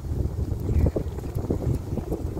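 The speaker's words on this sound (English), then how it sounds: "Wind, wind, wind." Gusty wind buffets a small fishing boat on the Illovo Estuary, a close, rumbling, low roar across the microphone with uneven surges.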